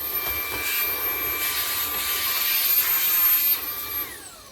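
A Comfyer Petrel lightweight cordless vacuum cleaner with a small attachment fitted runs steadily up close, its motor whine holding level and then briefly swelling as it sucks up dirt before easing off.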